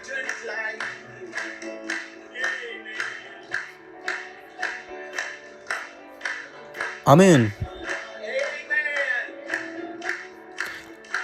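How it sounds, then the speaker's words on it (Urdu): A church congregation at a Urdu-language sermon claps in a steady, even rhythm for several seconds, moderately loud and slightly distant, while a preacher's voice carries over the beat and a single amen rings out. "آئیں اس کے لیے تالیاں بجاتے ہیں۔"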